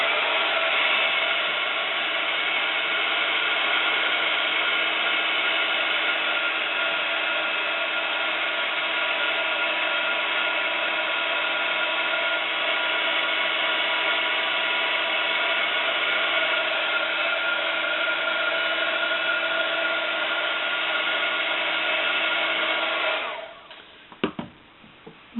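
A hair dryer drying crown paint on a craft plaque, a loud steady whirring blast that runs continuously for over twenty seconds before clicking off, followed by a few faint knocks.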